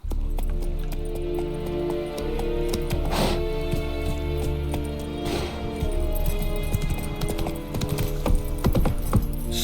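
Roach, the horse in The Witcher 3, trots with a loud, close, rhythmic clip-clop of hooves over a constant low ambient drone, with occasional clinks.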